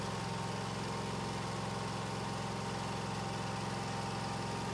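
A Husqvarna RZ-series zero-turn mower engine runs at a steady idle-like drone, an even mid-pitched hum with constant vibration and no change in speed.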